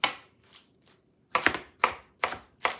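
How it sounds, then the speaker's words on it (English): A knife chops vegetables for a salad on a board: a few sharp strikes, a short pause, then four crisp, evenly spaced chops close by and fairly loud, with no talking. "chopping as much to fill this bowl is about 3 or 4 days worth of salad"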